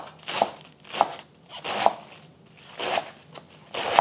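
Iceberg lettuce shredded with a knife, five crisp crunching cuts at an uneven, unhurried pace, close and clear with quiet pauses between strokes.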